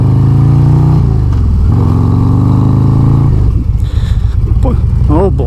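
The engine of a 2022 Harley-Davidson Road Glide Special roars loud and close with deep rumbling and shifts in pitch as it revs, while a voice speaks over it.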